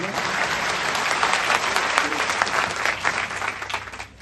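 Applause from a huge crowd at an Islamic gathering in Rajarhat, a dense roaring wash of clapping that swells and stays loud, with a faint voice murmuring beneath.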